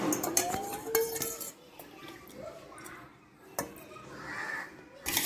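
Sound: mixing beaten flour batter into carrot juice for halwa

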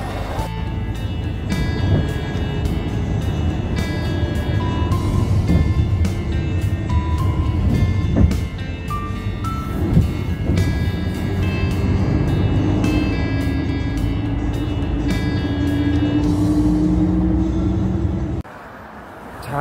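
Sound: bus arriving and driving, boarding a bus

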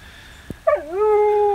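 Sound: puppies yipping outside

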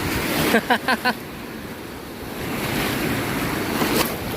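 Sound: ocean waves at Kuta Beach, Bali

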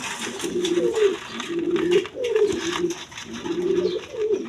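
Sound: Sirazi pigeons cooing

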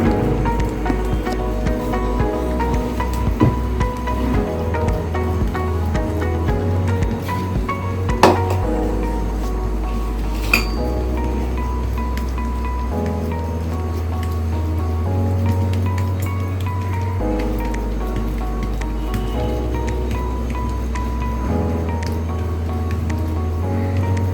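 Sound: patting jowar roti dough by hand on a wet cloth

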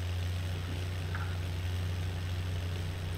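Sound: tractor engine idling, from the video game

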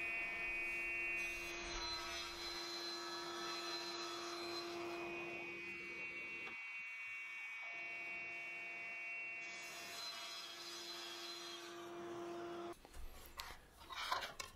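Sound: cutting 16mm MDF board pieces for a cabinet frame

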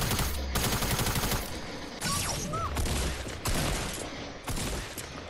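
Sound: gunfire in Fortnite video game

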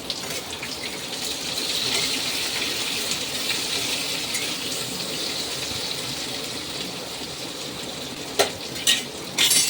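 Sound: bitter gourd frying in pan

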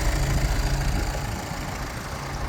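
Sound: MAN TGE 2019 diesel engine idling

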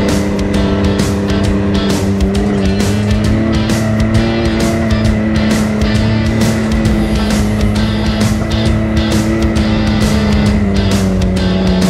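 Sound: off-road buggy driving on muddy trail

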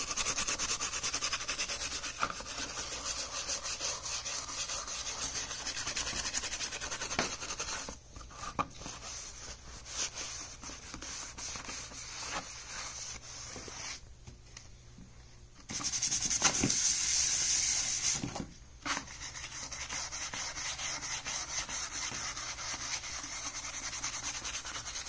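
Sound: steel wool rubbing acrylic paint onto armor

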